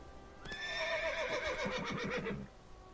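A horse whinnies in a long, loud, wavering neigh while being ridden in the Witcher 3 video game, with soft hoof clops underneath and no talking.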